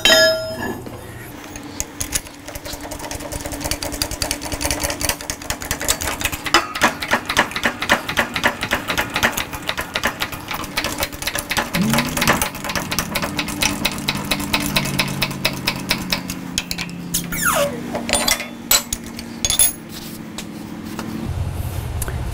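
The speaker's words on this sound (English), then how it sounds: "I mean, come on, it's a hydraulic bender," A hydraulic bender forces a metal pipe around a die that does not fit it snugly. The sound is a close mechanical drone with a rapid, chattering clatter whose pitch shifts partway through, continuous and without speech.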